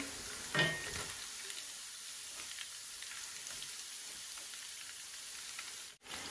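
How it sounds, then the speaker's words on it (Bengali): Sliced onions dropped into hot oil in a pan with ginger and garlic, giving a brief sizzling splash and then a soft, steady frying hiss that carries on quietly with no speech. "আর এখন এই পেঁয়াজগুলা দিলাই।"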